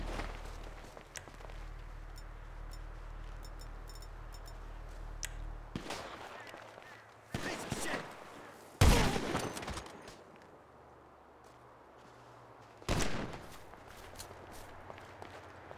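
Gunfire in GTA Online during a Flight Path heist mission, with a few sharp shots cracking out over steady engine drone, then a louder burst and another isolated bang near the end.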